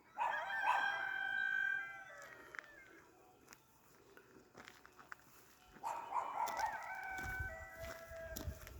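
Cheonggye and Baekbong chickens on a rabbit farm: a rooster crows loudly twice, near, with a quiet gap between the calls and faint clucking and clatter in the background.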